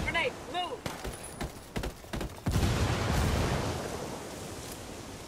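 A frag grenade goes off in the tactical shooter Ghost War: after short voices and a few sharp gunshots, a heavy broadband blast erupts and rolls into a long, slowly fading roar, loud and close.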